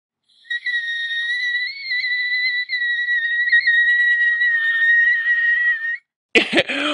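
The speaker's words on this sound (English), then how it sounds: "how's your whistle register?" A single very high, piercing sustained note sung in the whistle register, held steadily for about five seconds and loud and close, then a short burst of voice after a brief pause.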